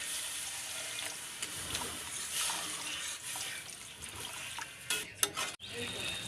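Water poured into a pan of fried tomato spice paste with a little sugar, for a spinach fritter curry, giving a continuous hissing, bubbling wash of liquid with a few sharp clatters near the end.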